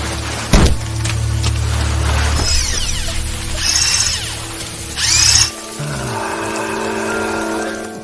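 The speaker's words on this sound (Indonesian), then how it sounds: "dengan sebuah mesin bor." A power drill whines in a film scene during a forest execution, rising in bursts over a low background hum, with a sharp impact near the start and a quieter rumble after the drill cuts off.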